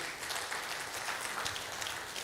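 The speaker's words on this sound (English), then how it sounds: "Let's put our hands together for him." Brief, fairly faint round of audience applause at an investment forum welcoming the Director General of Nigeria's Securities and Exchange Commission, a steady patter of many hands with no talking.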